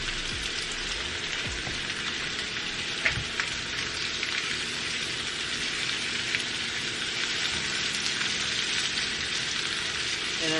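Butter sizzling in a hot pan beside seared, charred lamb chops: a dense, steady crackling hiss close up, with a few sharper pops and spits throughout.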